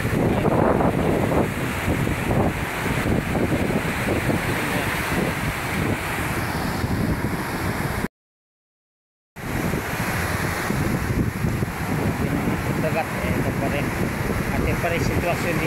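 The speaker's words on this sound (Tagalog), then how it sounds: "Nakakatakot pa rin mga sobrang kalalaking alon." Heavy surf pounds a shoreline as the strong northeast monsoon wind blows, a loud, unbroken roar of waves and wind rumble on the microphone, cut by a brief total dropout partway through.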